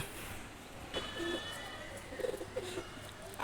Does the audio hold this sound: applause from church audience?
no